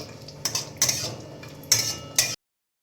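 A metal spoon scrapes and clinks against a pan as fried cashew nuts are lifted out, four or five sharp, close metallic taps and scrapes spaced unevenly before falling silent.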